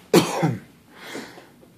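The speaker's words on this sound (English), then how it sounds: "Sorry, I keep coughing." A single sharp, close cough bursts out, followed by a softer, breathy second cough or throat clearing a moment later.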